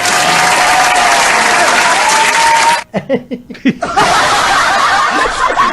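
A studio audience claps hands in a steady, loud burst, breaks off briefly for scattered chuckles and laughter, then resumes clapping to the end.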